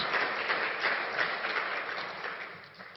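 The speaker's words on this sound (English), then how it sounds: "acknowledge that with the round of applause for all the Ontarians for their sacrifice and all the frontline workers" A round of applause from an audience at a press event honouring Ontarians and frontline workers, steady dense clapping sustained for the whole stretch, fading slightly toward the end, with no voices over it.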